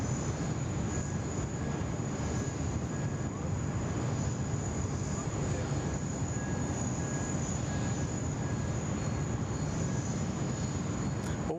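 A Korean Air Boeing 747 departing Sydney Airport's runway 34 right, a continuous distant jet roar that holds steady and broad throughout, heard alone without talk.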